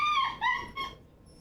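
Ginger, a small dog, whimpers in three short high-pitched whines close by, each rising and falling before the last trails off into quiet.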